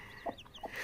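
A hen clucks in two short, soft bursts while tending her newly hatched chicks, with a faint high peeping running in the background.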